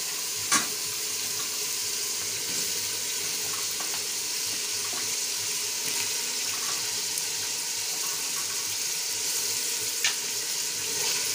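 Chicken pieces go into a pan with whole cumin and other spices and sizzle and fry steadily for about eleven seconds, with a few sharp clinks and utensil taps over the hiss.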